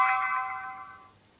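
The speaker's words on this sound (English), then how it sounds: "That was a text message." A phone's text message alert chimes near a homemade interface board for an A7 GSM module, a single bright ding that rings out and fades over about a second, with no talking.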